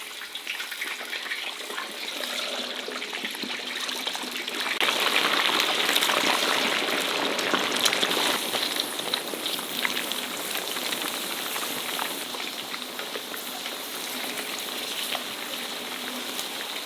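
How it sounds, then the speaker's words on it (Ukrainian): Steady, dense crackling sizzle of a crown roast of pork ribs deep frying in hot oil, swelling louder for a few seconds midway, then settling into a continuous bubbling hiss. "Обережно занурюємо корону в олію"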